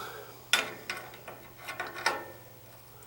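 A wrench works a small nut loose on an older 2002 gas water heater, giving a few close metallic clicks and ratcheting ticks over a faint steady hum.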